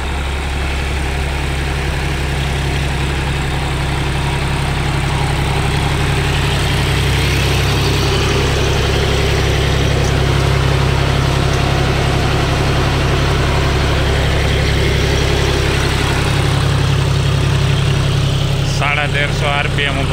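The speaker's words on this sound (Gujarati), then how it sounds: "RPM ઉપર ટ્રેક્ટર ચાલે છે અત્યારે" Tractor engine running steadily at raised RPM, powering a thresher working cumin in a field: loud, continuous, low droning rumble with no break throughout.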